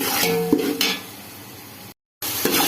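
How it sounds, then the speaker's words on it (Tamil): Onions go into hot oil for chicken biryani, with a light sizzle under a few ringing metal clinks of a spoon against the pot, then a brief silent gap before the sizzle and clatter resume. "எண்ணெய் சூடாகிடுச்சு. வெங்காயம் சேர்த்துக்கலாம்."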